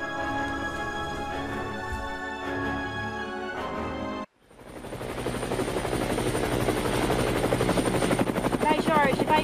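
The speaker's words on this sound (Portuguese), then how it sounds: "Jorge, prepara o helicóptero, porque eu estou indo para Ratanabá." A helicopter flying, its rotor and engine drone rising in after a brief gap and holding as a loud, steady whirring wash that follows a stretch of other tonal sound.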